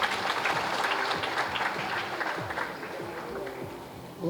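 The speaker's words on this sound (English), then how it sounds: "Can we have a round of applause again?" An audience applauds at a gathering as a spiritual speaker is called up to address them, a dense wash of clapping with some crowd noise that holds steady and then briefly dips near the end.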